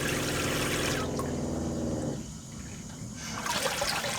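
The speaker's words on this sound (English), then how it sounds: "Oh, there's the hot water now." Hot water rushes steadily from a tap in a camper, loud and near, easing briefly before surging again, with no talking.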